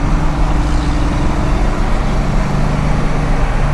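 A 1993 Ford Mustang Cobra cruises in fifth gear at about 40 under throttle, its engine a steady, loud low drone with constant road rumble.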